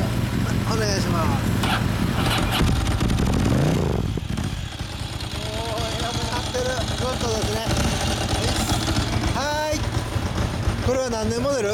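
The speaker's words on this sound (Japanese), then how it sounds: "エンジンを聞かせてくれる？" A 2013 Yamaha YZF-R15 motorcycle engine rumbles steadily up close, revving briefly before settling, with people talking over it.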